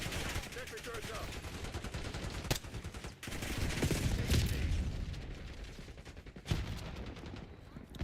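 Sentry turrets firing in a Call of Duty match, a quiet, continuous rattle of automatic gunfire with a few sharper bangs standing out, heard at a distance.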